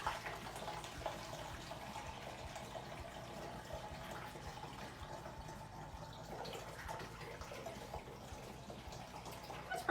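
Vinegar poured into a 2-liter plastic soda bottle, a steady continuous gurgling liquid stream running the whole time at moderate, even loudness.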